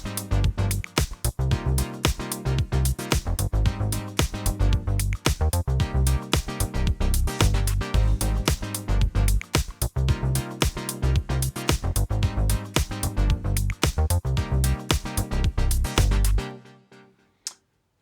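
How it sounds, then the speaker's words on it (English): An electronic DJ-style groove plays inside Logic Pro X: punchy kick-driven beat with looping percussion and synth layers in a steady, loud rhythm, cutting off abruptly near the end with a brief tail. "a kind of promising groove which is playing out in the first 8 bars of my project"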